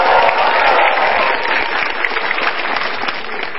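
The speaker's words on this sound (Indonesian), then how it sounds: "Tepuk tangan untuk Mas Iwer." Crowd at a stand-up comedy show clapping for a comedian, continuous loud applause that stays full and even for several seconds, slightly easing toward the end, with no talking.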